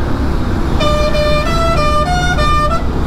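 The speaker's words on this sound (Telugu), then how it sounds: "ఏంద్రా నాయన హారను" A vehicle horn honks repeatedly in a stuttering run of toots over steady road and engine rumble on a motorcycle day trip to Shivaganga Hills near Bangalore, loud and close.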